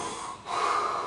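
A storyteller's voice imitates a sleeping fisherman snoring, one drawn-out nasal breath swelling into a rough snort, close and fairly quiet.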